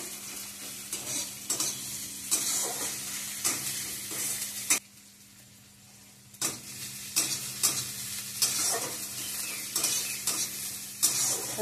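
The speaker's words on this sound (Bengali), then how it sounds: "পেঁয়াজটা যতক্ষণ ব্রাউন হচ্ছে না ততক্ষণ আমাদেরকে এটা ভাজতে হবে।" Onion frying in a pan until brown, a steady close sizzle with regular scraping and stirring strokes, briefly dropping away for a couple of seconds before resuming.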